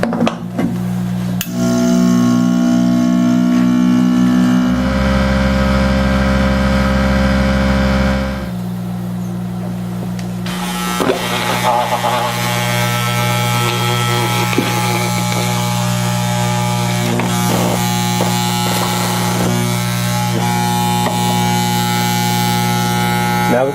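A loud motorized vacuum mixer mixing dental die stone whirs and hums, shifting pitch partway through, then settles into a steady mechanical drone with rattling and clicks.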